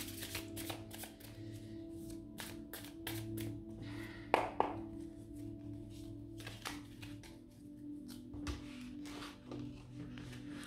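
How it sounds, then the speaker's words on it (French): Tarot cards being shuffled by hand, a rapid run of soft riffling taps and slaps repeating throughout, close but quiet, with a brief louder clatter midway and no talking. "je vais rebattre parce que j'ai vu la carte"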